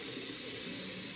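Hot water runs steadily from a bathroom tap into a sink, a continuous close, even rushing hiss with no break.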